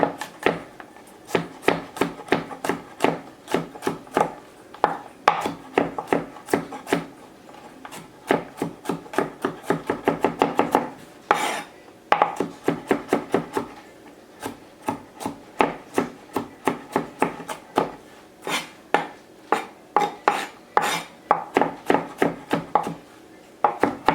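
Rapid knife chopping on a board while preparing ingredients for Thai pad see ew, with steady bursts of close, crisp strikes in quick rhythm and brief pauses between runs, no talking.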